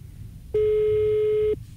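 A single steady telephone tone rings out for about one second, loud and clear over a low background hum, as a radio call-in host connects a caller.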